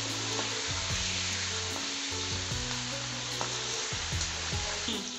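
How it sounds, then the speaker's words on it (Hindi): Mutton frying over high heat gives a loud, dense, steady sizzle up close, with occasional stirring scrapes and a low background hum, and no one speaking. "गोश्त हमारा फ्राई हो गया, हमने तेज आंच पे किया है"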